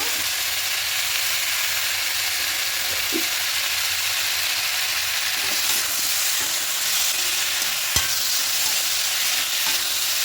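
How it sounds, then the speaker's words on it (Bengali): Spice masala fries in a pan for a vegetarian soybean and vegetable dish, sizzling steadily and loudly up close, with occasional stirring scrapes and one sharp knock near the end. "ভালো করে মশলাটা কষিয়ে নেব"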